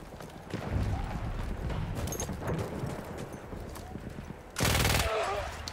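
Gunfire in the Battlefield 1 video game, a dense stretch of shots with a louder, sharper burst near the end, heard under someone talking.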